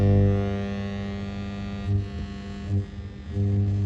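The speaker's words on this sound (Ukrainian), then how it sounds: "це ми піймали якийсь шум, мощний шум сигнала" A steady, loud electrical hum with buzzy harmonics drones throughout, swelling and throbbing a few times, from a restored tube radio-gramophone tuned between FM stations with no reception.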